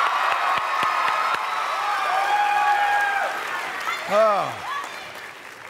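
A studio audience on a quiz show cheers and applauds a contestant: steady crowd noise with claps and shouts, fading slightly near the end, where a voice briefly exclaims.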